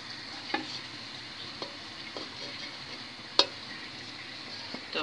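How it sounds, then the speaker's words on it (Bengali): Kerala fry cooking in hot oil in a nonstick pan, a steady low sizzle with occasional soft stirring scrapes and one sharper clack, fairly quiet and close, no talking. "এই গরম তেলের মধ্যে আমরা এখন আমাদের কেরালা ফ্রাইটা দিয়ে দিব"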